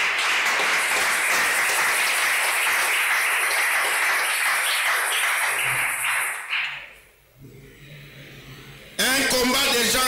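A church congregation keeps up loud, steady applause and cheering for about six seconds. The clapping then fades, a short quiet stretch follows, and a voice speaks.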